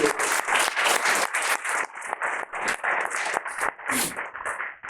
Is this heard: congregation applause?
yes